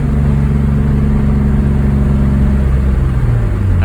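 A car engine revs under throttle with a loud, close, sustained drone whose pitch sags as the gas eases near the end, with no voices over it.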